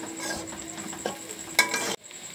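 Chili powder and a little sugar fry with browned onions in a pan for a dahi tarka, a soft close sizzle with stirring scrapes and a sharp clink before it cuts off.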